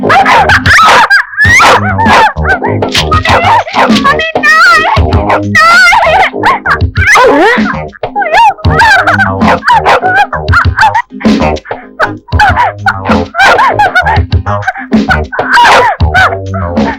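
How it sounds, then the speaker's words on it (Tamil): A dog barks, yelps and whimpers excitedly through the whole stretch, loud and close, in a busy outdoor scene abroad, with overlapping voices and music-like harmonic tones mixed in. "பிரியா, பிரியா, ஐயோ நாய் என் பொண்ணை கடத்துது."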